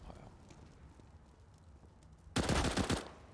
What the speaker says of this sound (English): Kiyoshima with the deagle shot onto Apex, stealing the kill from Happy